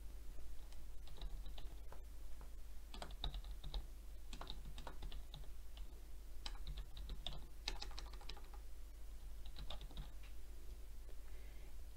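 Someone types a message on a computer keyboard, soft irregular key clicks in short bursts and pauses, fairly quiet over a low steady hum, with no talking.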